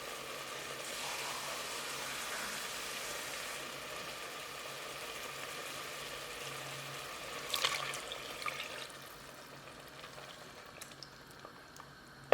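Water pours into a cooking pot of meat on the stove, a steady broadband rush of liquid that runs for several seconds and then tapers off, heard alone with no talking.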